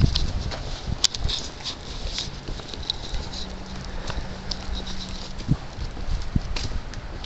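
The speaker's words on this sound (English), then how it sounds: "The dogs." Dogs move around outdoors with light pattering footsteps and scuffling over steady ambient noise, with faint occasional whimper-like sounds and no clear talk.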